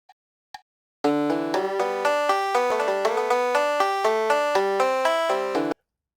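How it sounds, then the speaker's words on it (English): A banjo picks out Amazing Grace note by note from tablature, a clear run of plucked, ringing tones for about five seconds, alone after two faint taps at the start. "this is a banjo version of it."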